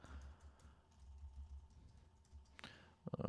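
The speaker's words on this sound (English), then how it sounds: "I'm typing this out as I'm speaking to y'all." Computer keyboard typing during a live pre-market trading stream, a quiet, steady run of soft key clicks that grows into a denser, louder burst of keystrokes at the end.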